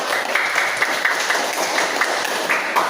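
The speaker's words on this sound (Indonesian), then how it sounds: "Ya, tepuk tangan kita semua." A classroom of students claps together in steady, dense applause that runs the whole moment without pause.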